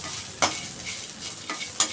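Biryani spices frying in hot oil while a spoon stirs through them, a soft continuous sizzle broken by a few sharp scraping strokes, close and moderately quiet.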